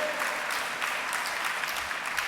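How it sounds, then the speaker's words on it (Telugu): A church congregation claps steadily in praise of God during a sermon, a continuous moderate wash of many hands filling the room without voices. "చప్పట్లు కొట్టి దేవుని స్తుతిద్దాం."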